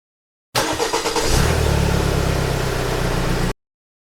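An 819cc inline three-cylinder ZXMOTO 820RR motorcycle engine cranks and catches, then settles into a steady, throaty mid-pitched drone, close and loud, with a rough mechanical texture.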